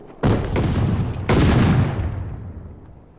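Two loud explosive blasts from a grenade in a team deathmatch video game, about a second apart, each a sharp boom that trails off into a rumbling decay.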